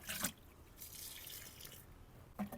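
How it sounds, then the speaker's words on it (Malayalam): Liquid slurry fertilizer is poured onto spinach plants in a garden bed, making a soft, faint splashing trickle with a couple of brief stronger gushes. "നമ്മൾ ചീരയ്ക്കും നമ്മുടെ സ്ലറി ഒഴിച്ചു കൊടുക്കുവാണ്."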